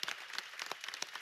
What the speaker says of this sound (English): let's how about give them a round of applause